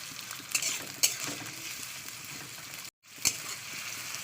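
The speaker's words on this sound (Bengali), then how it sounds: "এবার পেঁয়াজকে ভালো করে ফ্রাই করে নিচ্ছি তেলের মধ্যে" Steady hiss of onions frying in hot oil, with a few scraping stirs of a spatula and a brief gap near the end.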